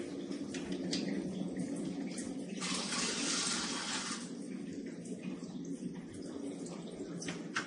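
Clean pH 7.0 water runs from an Enagic Kangen water ionizer unit, a steady faint trickle with a louder gushing burst partway through.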